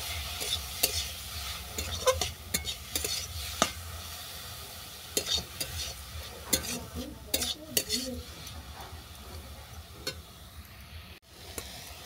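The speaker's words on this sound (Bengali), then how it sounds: "এটাকে ভালো করে ভেজে নেব" Snake gourd pieces with chopped coriander fry in a pan, with a steady sizzle under repeated scraping and stirring clicks of a utensil against the pan, close and fairly loud.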